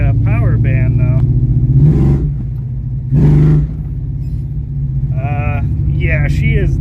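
A 1965 Mustang with a 302 Windsor V8 and tunnel-ram intake, running rough, idles with a deep rumble broken by two short, loud revs. Voices talk over the engine.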